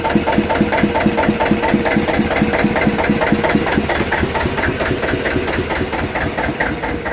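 A vintage Russell Newbery diesel engine on a canal narrowboat runs loud and close, with an even, rhythmic knocking thump that holds steady throughout.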